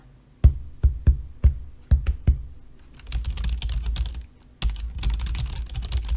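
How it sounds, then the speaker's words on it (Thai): Close, sharp keystrokes tap out an uneven rhythm on a keyboard, then give way to a busier, hissy clatter of typing on a desk, picked up by a FIFINE K669 USB microphone. "เวลาที่เราต้องการจะ พิมพ์นะฮะหรือว่า ทำอะไรบนโต๊ะก็แล้วแต่"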